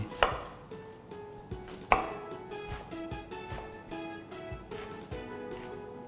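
A knife slices half an onion into strips on a cutting board, a series of sharp, close taps in an even rhythm, with two louder strikes among them.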